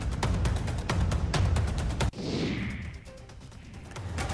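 Fireworks at New Year celebrations with a laser show crackle in a rapid burst of sharp bangs, followed by a rushing whistle and a quieter hiss with a distant pop.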